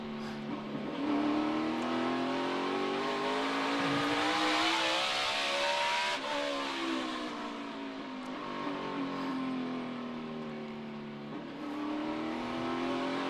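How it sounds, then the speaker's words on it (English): NASCAR stock car engine roaring at the STP 500, heard from an onboard position: a loud, continuous drone rising and falling in pitch as the car accelerates and lifts through laps. "You're watching from the eBay Motors onboard camera on Newman's car as Bowyer tries to put the 31-2 down"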